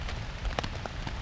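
Steady rain falls at night on a riverside kayaking camp, a dense even patter close by with a few louder drops, no voices.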